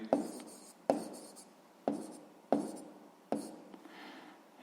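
Pen or pencil scratching out a math answer on paper, five short strokes each starting with a sharp tap and trailing off, close and quiet, no talking.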